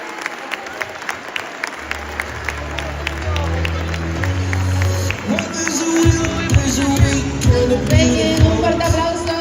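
Applause and crowd noise at a carnival costume contest prize ceremony in O Grove, Spain, starting as scattered claps and swelling into fuller clapping with crowd murmur and a low music bed.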